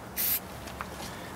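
A single short hiss of brake cleaner from an aerosol can, sprayed onto a Jumpin Jack engine, lasting about a fifth of a second and close, followed by quiet and a brief knock at the end.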